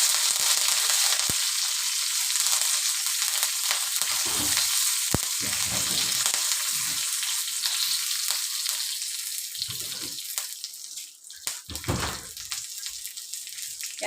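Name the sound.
curry leaves frying in hot oil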